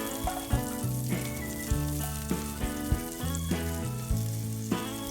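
Garlic fries in a pan with a steady, close sizzle that runs throughout, while background music plays underneath.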